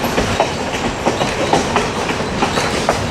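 Riding aboard the Essex Steam Train, the wheels beat out a loud, steady clickety-clack over the rail joints, a close rhythmic rumble with no voices.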